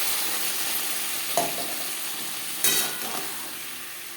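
Potatoes frying in a pan for a rui fish curry, a continuous bright sizzle with a few sharp utensil scrapes and clinks against the pan, close and alone.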